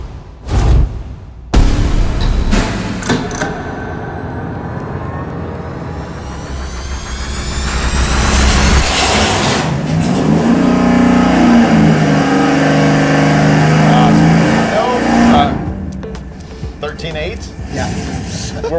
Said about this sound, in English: we're gonna fire it up now with the Victor Jr. single plane